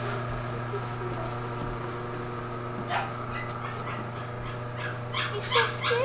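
A frightened new puppy whimpers and yips softly, with a few short high cries near the end, heard over a steady low hum and some quiet background talk.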